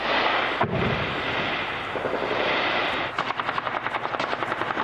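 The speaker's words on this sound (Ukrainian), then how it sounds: "Бойовики стріляють з кількох боків одразу, прицільно і не дуже." Dense, continuous rumble of heavy fire from small arms, machine guns, mortars and grenade launchers during shelling in Marinka, Ukraine, with a sharp blast early on and a fast run of rhythmic bursts near the end, loud and close.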